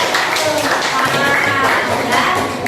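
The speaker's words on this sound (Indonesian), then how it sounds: "Tepuk tangan buat kelompok 4 ya." A middle school classroom claps for a student group during an open-class lesson, a short burst of mixed clapping under chatter and voices throughout.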